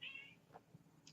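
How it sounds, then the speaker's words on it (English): A cat meows once indoors, a faint high mew near the start with a couple of softer short sounds after, quiet and close over a low room hum with no talking. "yes, cat, I hear you."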